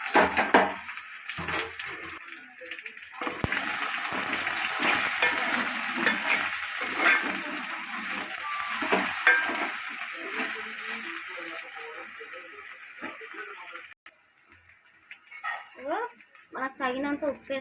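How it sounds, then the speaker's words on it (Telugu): Okra pieces frying in a tempering of dried chillies and curry leaves, a steady close sizzle with stirring, someone talking over it and a dog barking faintly. "పోపు అయింది కాబట్టి బెండకాయ వేస్తున్నామండి."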